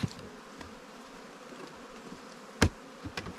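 Honey bees buzz softly around an open hive during a ranch hive inspection, with a faint steady drone broken by a couple of sharp knocks.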